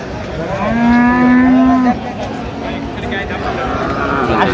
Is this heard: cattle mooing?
yes